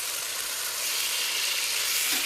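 Bean curd frying in spicy sauce in a NutriWok, a steady close hiss of sizzling that swells slightly as the pieces are stirred, with no voices.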